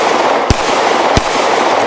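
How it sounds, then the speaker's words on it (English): Two loud, sharp gunshots from a SIG P365 XL pistol fired outdoors at targets crack about two-thirds of a second apart, over steady background wind noise. "I just wanted to keep shooting"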